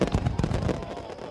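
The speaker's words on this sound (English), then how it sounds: "They love Sir Topham Hatt's fireworks" Dense crackling bursts and thumps of fireworks going off in quick succession, loud and continuous with no pauses.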